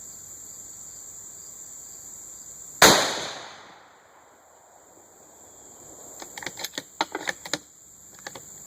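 A Savage 10 FCP-SR bolt-action rifle in .308 Winchester fires a single loud, sharp shot with a decaying echo, then a few light metallic clicks and taps follow over a steady high insect-like hiss.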